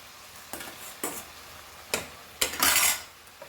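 Cauliflower florets being stirred in a cooking pan for a Goan prawn and cauliflower curry, with several sharp scrapes and clatters of a utensil against the pan, the last one longer, over a faint sizzle. No one speaks.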